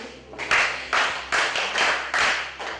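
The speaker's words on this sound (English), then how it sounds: "Let's clap for him." Children at a camp classroom clap together in unison, six or so sharp, even group claps in a steady rhythm, moderately loud and close, with no talking.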